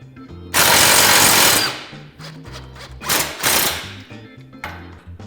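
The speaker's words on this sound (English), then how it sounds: "Then we're going to come on in here and remove our radius arm bolts from our bearing carrier." An impact wrench rattles loudly in close bursts while removing radius arm bolts from the bearing carrier of a Polaris RZR XP Turbo, with ratcheting and clicking between bursts.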